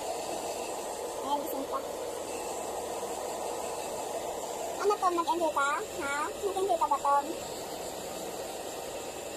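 A blower hisses steadily as it dries a blue Persian cat's fur after a bath, a constant airy rush running throughout beneath a voice.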